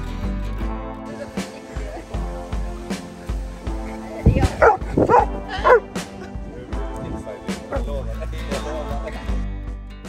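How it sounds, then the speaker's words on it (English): A Rottweiler barks in a short cluster of loud, close woofs and yips near the middle, over a steady background of music. "The breed of this dog is Rottweiler."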